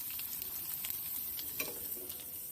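Pani puri dough rounds frying in hot oil give a steady, close sizzle with fine crackling pops throughout, and no voices.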